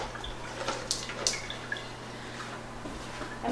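Water rinses canned chickpeas in a colander, a faint, close trickle with scattered light drips over a low steady hum.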